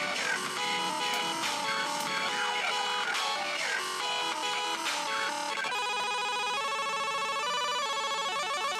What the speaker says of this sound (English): Whose ringtone is that?